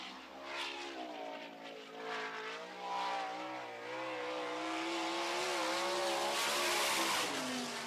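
Number 45 sprint car driven by Paul McMahon on a solo time-trial lap, its engine note rising and sweeping in pitch as it accelerates past, heard from a distance and building louder toward the end, with no talk.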